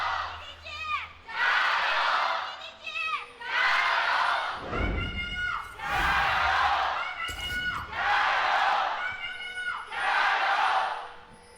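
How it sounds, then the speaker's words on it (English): An esports arena crowd at an LPL match roars and cheers in repeated loud bursts, shouting and chanting in waves with short lulls between them. "It's time to hear from the crowd who's going to win this matchup."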